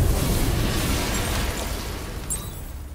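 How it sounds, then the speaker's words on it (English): Explosion in the Batman Arkham Knight video game, a dense rumbling blast that decays gradually over a few seconds, fairly loud and heard alone. "That was a nice explosion."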